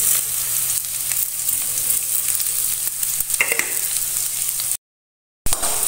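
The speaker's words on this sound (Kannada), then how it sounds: "ಇದು ಸ್ವಲ್ಪ ಬೇಗ ಫ್ರೈ ಆಗಬೇಕಂದ್ರೆ ಸ್ವಲ್ಪ ಉಪ್ಪನ್ನು ಹಾಕಬೇಕು." Small chopped pieces of fresh clam meat fry with salt in a hot pan, making a loud, continuous close-up sizzle with occasional crackles, broken by a short silent gap near the end.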